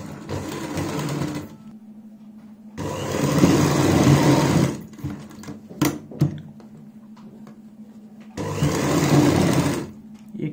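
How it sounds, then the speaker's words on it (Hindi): A sewing machine runs in three bursts of steady whirring, stitching a sleeve seam at home, with quiet pauses between runs and a few small clicks and handling noises. "नोक निकालने के बाद यहाँ पे सिलाई लगाएंगे एक पैर चौड़ाई वाली ही।"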